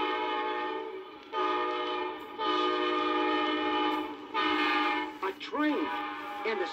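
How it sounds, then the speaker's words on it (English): A train horn blares in long sustained blasts with brief gaps, loud and close, ending in a few shorter warbling hoots. "A train."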